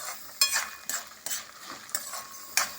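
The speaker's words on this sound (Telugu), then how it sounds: "ఇప్పుడు ఈ పోపులోకి ఒక 4 పచ్చిమిరపకాయలు వేస్తున్నానండి" Four green chillies dropped into hot oil tempering for temple-style tamarind rice sizzle and crackle close by, with a series of sharp stirring scrapes of a spatula against the pan between softer frying hiss.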